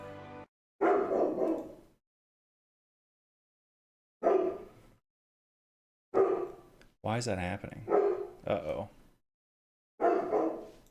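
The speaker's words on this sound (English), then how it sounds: "The dogs are barking." Dogs bark in several short bursts spread apart by silent gaps, some of them yippy and high. A person speaks briefly between the barks.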